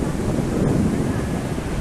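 Strong wind buffets the microphone on a wide, flat beach on Boracay, with big surf rolling in underneath; a loud, steady roar fills the whole stretch without a break.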